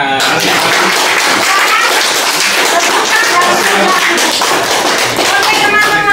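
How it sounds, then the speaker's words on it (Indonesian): A crowd applauds steadily at an art exhibition opening, dense clapping sustained throughout with a few voices mixed in. "Tepuk tangan."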